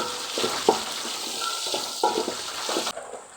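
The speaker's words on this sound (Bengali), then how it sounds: "দারুচিনি, সাদা এলাচ, কালো এলাচ দিয়ে হালকা ব্রাউন করে পেঁয়াজটা ভাজতে হবে।" Onion frying in oil with cinnamon sticks and green and black cardamom, heard as a steady broadband sizzle with occasional louder scrapes and stirs that cuts off sharply near the end.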